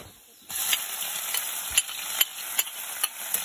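Tiny alamang shrimp sizzle and hiss steadily in a pan in a rural home kitchen. The sound is quiet and fairly close, with a few soft stirring knocks over a constant background whine.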